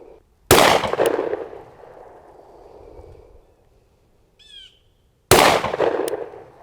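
Two sharp, loud shots from a Glock 43X MOS pistol being zeroed at a range, a few seconds apart, each with a ringing echo that slowly fades outdoors, with a faint bird chirp between them.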